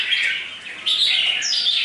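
A wild-caught, mature red-whiskered bulbul sings from close by in a short, bright run of clear chirps and whistled notes with no other sounds.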